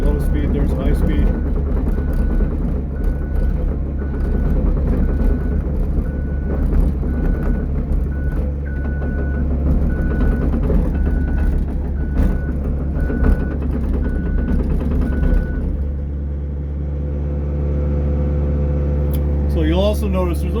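Excavator travel motor running under load during hydraulic troubleshooting of weak travel, a loud continuous mechanical drone with a steady tonal whine, switching between high and low speed, before the pitch briefly sweeps near the end.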